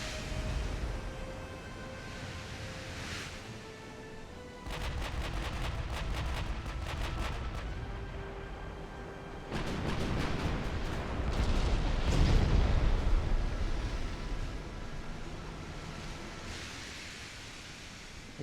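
Heavy naval guns fire in repeated booming salvos in the warship game Ultimate Admiral: Dreadnoughts, with sharp cracking bursts and rumbling blasts over a steady roar of sea and engine noise.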